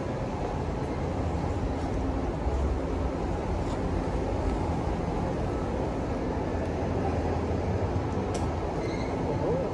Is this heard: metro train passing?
yes